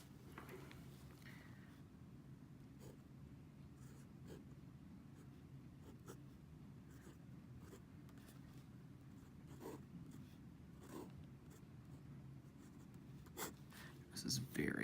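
A Conklin Duraflex fountain pen, a very wet writer, scratches steadily across Nemosine paper, a soft continuous nib drag of closely spaced strokes with no talking.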